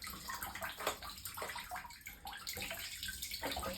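Water drains and trickles out of the stock of a Henry US Survival Rifle, a faint, steady splashing gurgle with soft pulses, heard alone without talking.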